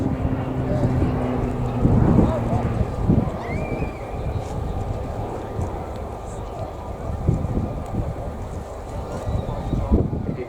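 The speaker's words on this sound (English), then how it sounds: "During this manoeuvre, Liam is going to put the aircraft onto its side and push his way around the sky" A Tucano T1 turboprop trainer flies a display manoeuvre at the RIAT 2019 airshow, its propeller drone steady and fairly distant beneath heavy wind buffeting and faint background voices.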